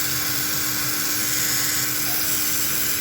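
A small DC Flyer electric motor runs at about 17 volts, a steady high-pitched whirring hum held evenly throughout at close range.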